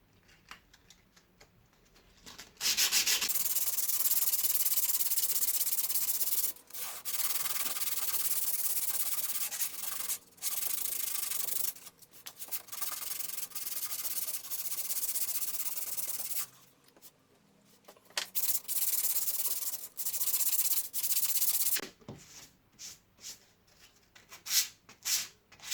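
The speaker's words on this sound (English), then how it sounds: "So what I might just do here is just run a bit of sandpaper like so at an angle" A window sill is hand sanded with sandpaper in a string of close, raspy back-and-forth strokes, split by short pauses and ending with a few quick taps.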